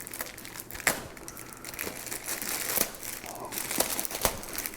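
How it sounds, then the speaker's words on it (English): Plastic packaging is sliced open with a box cutter and pulled apart by hand, giving close, quiet crinkling and crackling with several sharper snaps and tearing sounds scattered across the clip. "what's commonly known as a box cutter to open this plastic"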